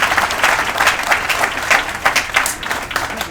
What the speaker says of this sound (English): One more round of applause, man.